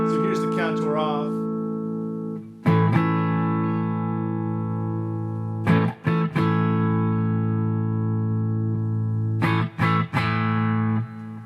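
An electric guitar plays through a Boss Katana Artist MkII amp with the contour control off, letting long distorted chords ring and decay between a few restrikes, loud and close with no talk over them.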